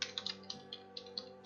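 Keys tapped on a computer keyboard while a folder name is entered, giving about eight quiet, unevenly spaced clicks close by, with no voices.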